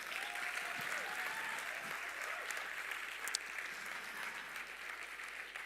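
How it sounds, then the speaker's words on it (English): An audience at the 2022 ICPC SWERC opening ceremony applauds after a performance, continuous crowd clapping that holds steady across the hall, fairly distant and without speech. "after that performance, she deserves another round of applause."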